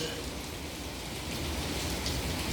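Steady heavy rain falls continuously in Istanbul, a dense even hiss of drops on surfaces, close and moderately loud, with no voices.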